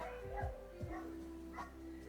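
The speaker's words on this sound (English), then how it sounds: "Dogs be barking next door." Dogs bark next door, heard faintly through the walls as a few muffled woofs and yips early on, then a weaker bark later, with a steady low hum throughout.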